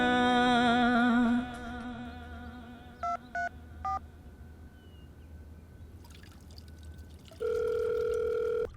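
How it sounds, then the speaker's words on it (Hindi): A telephone sounds with electronic tones: a long chiming tone fades, then three short beeps, a quiet gap and another steady tone, with no speech. "ये बुढ़ऊ का फोन आ रहा है"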